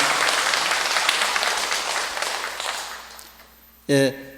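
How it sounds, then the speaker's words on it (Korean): A congregation at a Catholic brotherhood monthly meeting and Mass claps in encouragement, a loud, dense burst of applause that gradually fades away, followed by a short, sharp tonal sound at the end. "힘찬 서로의 격려의 박수 부탁드리겠습니다"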